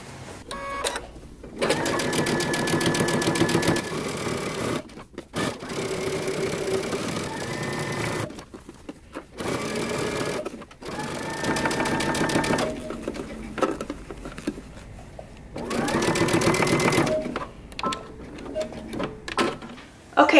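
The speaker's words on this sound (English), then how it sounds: "now you're going to understitch as far as you can all the way around your yoke" A home sewing machine runs in several sustained bursts, understitching around the yoke of wide-leg pants and pausing between runs, close and fairly loud.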